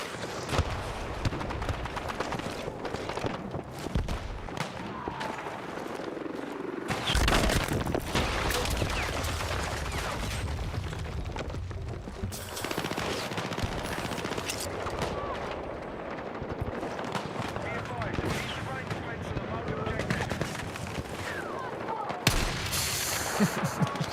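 Gunfire and explosions in the video game Battlefield 6, with dense, continuous bursts of shots and blasts alongside a tank, loud and busy throughout the whole stretch, with a voice talking over the action.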